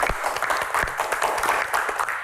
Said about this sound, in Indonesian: Tepuk tangan, luar biasa.